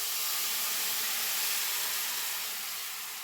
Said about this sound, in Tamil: குழம்பு நல்லா கொதிக்குது பாருங்கள்